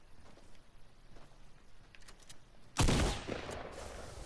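Sudden loud burst of Fortnite gunfire erupting after a stretch of quiet background noise, a dense rattling volley that continues and tails off near the end.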